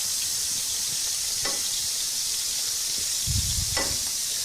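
Ginger and garlic frying in a stir fry pan, a steady broad sizzle and hiss running throughout with a few soft stirring clinks and a brief louder bubbling burst near the end.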